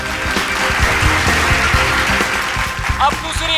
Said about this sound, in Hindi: तालियां दोस्तों